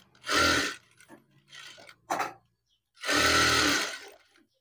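A sewing machine stitches a blouse in two loud whirring bursts, each under a second long, separated by quiet handling noises and a brief clack.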